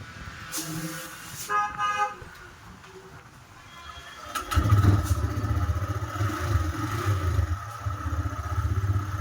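A TVS Raider motorcycle engine starts partway through and settles into a steady, close idle rumble, after earlier faint traffic noise and a brief horn-like toot.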